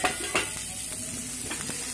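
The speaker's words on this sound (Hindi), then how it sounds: "और इन सब्जियों को भी साथ में फ्राई कर ले रही हूँ" Vegetables for veg fried rice sizzle loudly in a hot pan as they are stirred, with a few distinct spatula knocks against the metal over a constant frying hiss.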